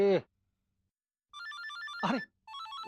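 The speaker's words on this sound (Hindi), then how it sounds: "विचू का फोन है।" A telephone rings with a bright repeating electronic warble in two bursts separated by a short gap, clear and close indoors in a household drama scene.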